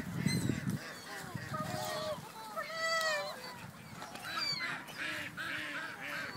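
A flock of ducks or geese honking and squawking after being thrown food, repeated overlapping calls rising and falling, with people talking under them.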